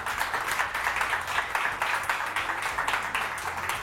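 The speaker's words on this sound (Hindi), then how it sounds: "सेट पे आ रहे मेरे मुसव्विर भाई के लिए बहुत सारी तालियां" Studio audience on a live TV morning show bursts into steady applause, many hands beating in a brisk, rhythmic, even patter that carries on for several seconds.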